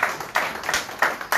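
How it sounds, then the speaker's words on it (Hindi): Church congregation at a Friday service clapping in a few uneven bursts, moderately loud and close, with short gaps between rounds. "तालियां दीजिए उसके लिए"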